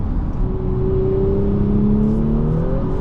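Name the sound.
2024 Audi S5 3.0T accelerating in gear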